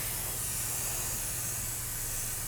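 Aerosol paint spraying onto the body shell of a 1989 RC10GX Stealth replica RC car, a loud, close, unbroken hiss lasting throughout.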